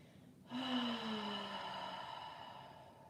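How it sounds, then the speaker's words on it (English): A deep, open-mouthed exhale during a gentle restorative yoga breathing practice: one long, voiced sighing breath begins abruptly and slowly falls in pitch, fading away over about two and a half seconds, close and alone. "Deep inhale. Open mouth exhale."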